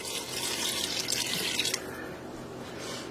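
Liquid pours and drips steadily into a cooking pot as water and beer go in for a pork enchilada filling, a continuous trickling splash that thins out partway through, with no talking.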